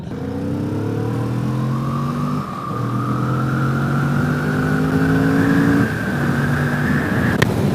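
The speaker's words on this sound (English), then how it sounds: "it's got really good acceleration. You just have to wind it out into those higher RPMs" A 2022 Kawasaki Vulcan S ABS motorcycle accelerates through the gears, its engine note rising steadily toward high revs, dropping at each shift and climbing again, close and loud without speech.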